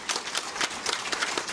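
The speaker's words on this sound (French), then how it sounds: "alors vous pouvez l'applaudir" An audience claps for guest speaker Patrice Dulibaud at an evening event, a brief, steady patter of many hands with no talking.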